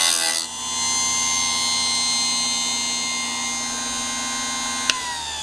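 A Harbor Freight chain saw sharpener runs with a steady, even electric whine as its grinding wheel works a saw chain, a continuous close hum with no talk and a brief click near the end.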